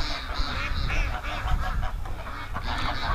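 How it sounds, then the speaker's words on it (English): A flock of ducks being let out of their pen in winter calls constantly in a dense, overlapping chorus of honking quacks, close and steady throughout. "So we're gonna let the ducks out."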